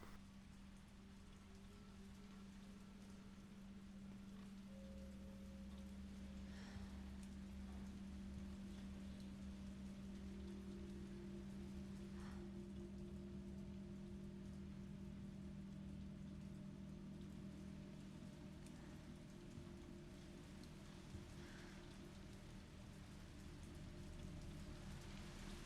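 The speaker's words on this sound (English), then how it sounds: "So in the original it rains, and here it rains too, so it makes sounds effect." Steady rain falls in a Resident Evil 3 Remake cutscene, a faint, continuous hiss of drops under a low droning hum, with occasional soft distant rumbles.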